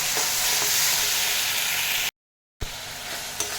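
A spice paste of onion, tomato, ginger and garlic fries in a pan with a dense, close sizzle and occasional stirring clinks, broken by a brief silent gap before the frying resumes.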